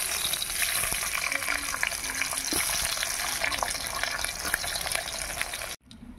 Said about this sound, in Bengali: তেল গরম হয়ে গেছে, তেলের উপরে এবার আলুগুলো ছেড়ে দেবো।